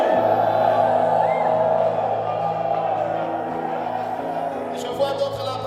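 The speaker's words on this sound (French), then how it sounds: "Qu'un fils de Dieu me pousse un cri de joie avant de commencer." A church congregation fills the room with a sustained mass of shouting and joyful cries, loud and continuous with a droning reverberant backdrop, tapering slightly toward the end.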